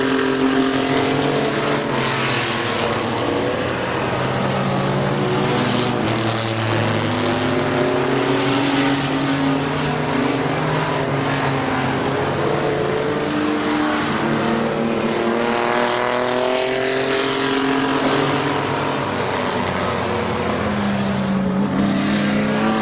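Race cars roar around Midvale Speedway in a continuous loud pack, engines rising and falling in pitch as they sweep past and accelerate through the laps.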